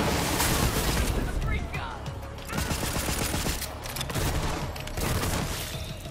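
Rapid bursts of automatic pistol fire in Borderlands 3 combat, dense loud volleys with thumps and impacts, mixed with other battle noise and under a player's talking.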